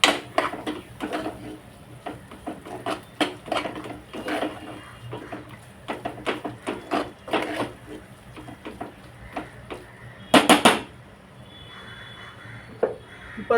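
Spices and vegetables are stirred in a cooking pan, with uneven scraping and clinks of a spoon against metal, near and fairly faint, along with one louder clatter.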